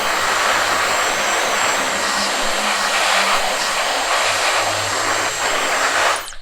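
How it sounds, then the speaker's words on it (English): Close, loud blow dryer held upside down and blasting air into pockets to clear loose hair, a steady roaring whoosh lasting several seconds before cutting off at the end. "we'll take the blow dryer, flip it upside down,"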